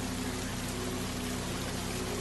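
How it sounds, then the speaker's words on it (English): Heavy rain pouring down onto palace walls and the ground, a dense, even hiss with a low steady hum beneath, continuous and unvarying for its short length. "This is swiftly followed by the sound of heavy rain pouring down over the thick palace walls"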